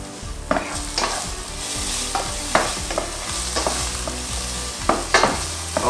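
Bacon lardons fry in a pan for carbonara, a loud close sizzle broken by repeated spatula scrapes and stirring knocks at an uneven rhythm, with no talking.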